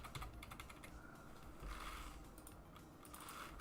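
Rapid typing on a computer keyboard, a dense, steady run of fast clicks close by, with brief bursts of quicker keystrokes throughout.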